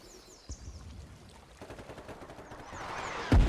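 Artillery in the war game Foxhole: a sharp thump early on, a stretch of rattling distant fire that builds gradually, then a heavy loud impact near the end.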